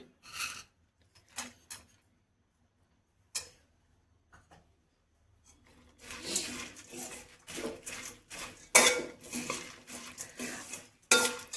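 Masala churumuri being mixed in a bowl, scattered clinks and scrapes at first, then a denser run of rattling, scraping stirs, close and moderately loud.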